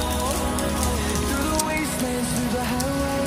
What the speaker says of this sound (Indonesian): Tiap hari hujan kayak gini repot ya teman-teman